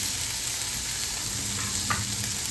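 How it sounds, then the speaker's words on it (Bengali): Dried fish (shutki) frying in a pan: a constant close hiss of sizzling oil with a faint clink of a utensil near the end. "শুটকি মাছটা ভাজা ভাজা করে নিচ্ছি।"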